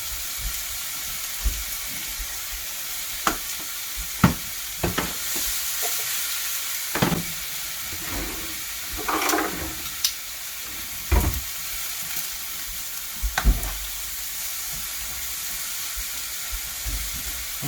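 Fruit dusted with chipotle seasoning cooks in a pan over medium heat, giving a steady sizzle under sharp clicks and scrapes from a stirring utensil, with no talking.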